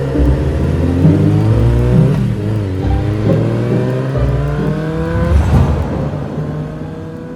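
A motorcycle engine revs hard and close, its pitch climbing and dipping in repeated sweeps over a steady, loud mechanical drone that runs for the whole stretch with no voices.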